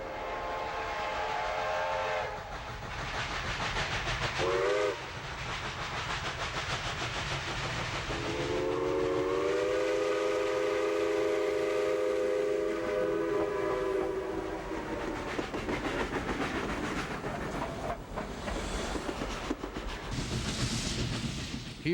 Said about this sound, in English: we will travel with a special double-headed train through beautiful Western Canada.